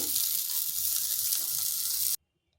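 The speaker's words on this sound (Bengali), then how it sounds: "এইভাবে উল্টে পাল্টে দুই পাশটা হালকা বাদামি কালার করে ভেজে নিচ্ছি" Pieces of wheat-flour dough sizzle steadily in hot oil, browning on both sides, a dense continuous crackle heard close up that cuts off abruptly near the end.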